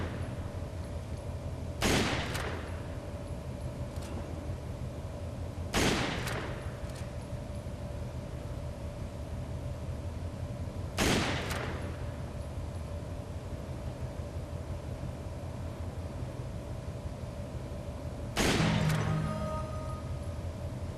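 Gunshots in Resident Evil 5, four sharp single shots spaced a few seconds apart over a low steady background hum, with no talking.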